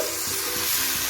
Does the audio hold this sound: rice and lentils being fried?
yes